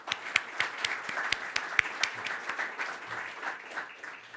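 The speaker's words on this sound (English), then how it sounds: "So I have to stop there for a round of applause." A round of applause from an audience at a governor's announcement: a fairly faint, distant spread of clapping, with a few sharper close claps standing out, continuing for several seconds.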